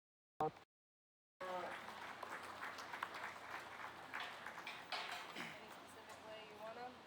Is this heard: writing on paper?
no